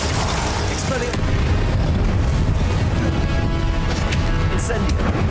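A spell cast in the Hogwarts Legacy video game during a wizard duel: dense, booming magical blasts and crackling bursts roll on without a break, loud and close, with a voice murmuring beneath the din.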